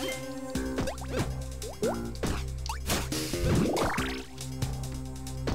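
Water drips in a dark cave in the video game Shantae: Risky's Revenge, heard as a string of bright, plinking drops. They fall irregularly over a sustained, tonal game soundtrack and end in a rising, bubbling run.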